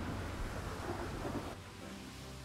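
Thunderstorm rumbling ahead of a sailing warship in the ship captain sim Her Majesty's Ship: a steady, loud roar of thunder, rain and wind that eases slightly halfway through, with no voices.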